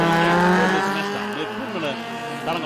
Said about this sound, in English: Actually, 11 cars starting off.